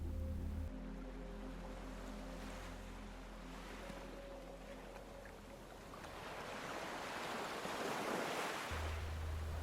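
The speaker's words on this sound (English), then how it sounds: "Waves are rolling up from the ocean" Ocean waves roll and wash onto a sandy beach in a steady, broad surf wash that swells louder toward the end, with a low sustained tone underneath and no talking.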